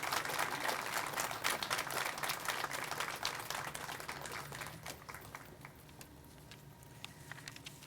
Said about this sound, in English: I ask you to give a round of applause for the people who are behind me